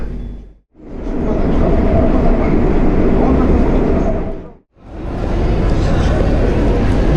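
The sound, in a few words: Moscow Metro subway train running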